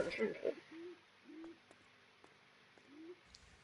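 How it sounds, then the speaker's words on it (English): Pigeon cooing in the video game L.A. Noire, heard as about three soft, low, drawn-out coos spaced through the clip after a brief louder burst of sound at the start. "Is that a pet pigeon or something?"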